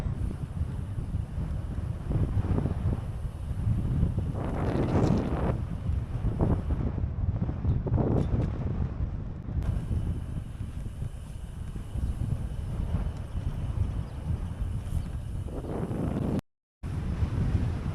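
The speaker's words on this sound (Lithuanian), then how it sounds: "A bit windy" Steady wind on the Atlantic coast buffeting the microphone with gusty low rumble throughout, no voices, a brief dropout near the end.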